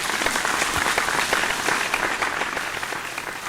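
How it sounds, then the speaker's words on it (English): A live crowd applauds performers at a vocal competition show, steady dense clapping filling the room throughout, fairly loud with no voices over it. "please give a big round of applause to our other performances who put on a good fight"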